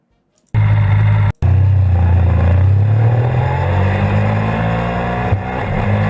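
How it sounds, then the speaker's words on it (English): Motorcycle engine running while driving in summer, a loud, steady low drone with a sharp cut-out near the start, then continuous rumble with slight shifts in pitch. "We're driving motorcycle in summer now."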